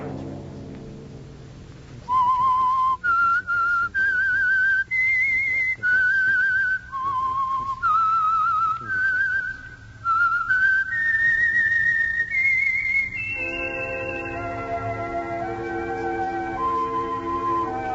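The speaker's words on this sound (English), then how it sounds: "Let that whistle be your signal for the Signal Oil program, The Whistler" A melodic whistled theme tune for the Signal Oil radio program The Whistler, broadcast in 1950: a clear, loud solo whistle climbs through a series of sustained notes, then is joined by a fuller orchestral swell near the end.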